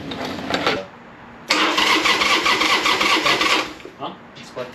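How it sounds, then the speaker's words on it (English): A Harley-Davidson Sportster motorcycle engine cranks in two bursts, a rapid rhythmic starter churning that stops, pauses, then grinds on longer without catching, close and loud, with people talking nearby. "We're gonna try to get the Sportster started."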